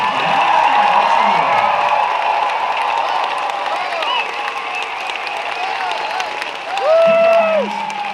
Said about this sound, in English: big round of applause for the Street Dog Coalition